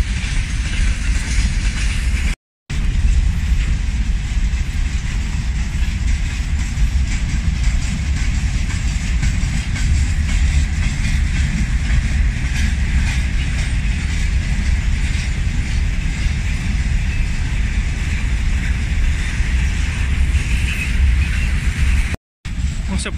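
Freight train wagons roll past up close near the Bryansk Yuzhny rail post in a forest, making a loud, continuous rumble and rattle of steel wheels that fills the whole stretch.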